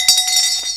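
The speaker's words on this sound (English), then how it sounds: "let's give her the bell" A single bright clang of a bell on a radio call-in show, struck once and ringing briefly on its own.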